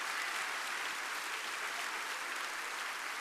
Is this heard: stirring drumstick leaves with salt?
no